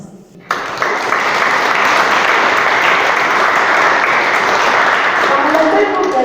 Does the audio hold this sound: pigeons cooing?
no